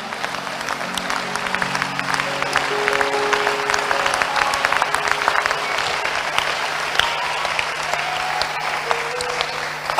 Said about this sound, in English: Where are you clapping,